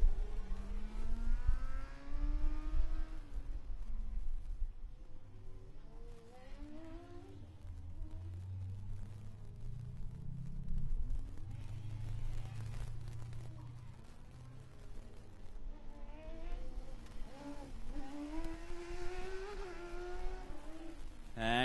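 Formula Student race cars drive the endurance track, engines revving and rising in pitch as they accelerate, shift and pass by, sometimes near and loud, sometimes fading into the distance.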